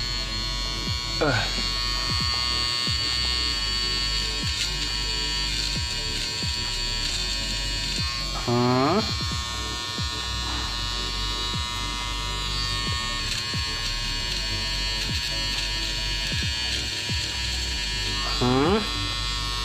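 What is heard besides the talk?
SONAR HP-300 electric nose hair trimmer running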